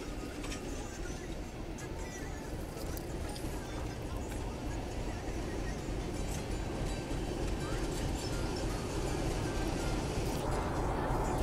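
A vintage train moves steadily along the tracks, its rumble continuous and fairly loud for the whole stretch, with no spoken voices over it.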